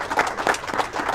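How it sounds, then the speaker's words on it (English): A small group of girls from a volleyball team claps a few times in a steady rhythm, in a brief, close burst of applause. "Give yourselves a round of applause."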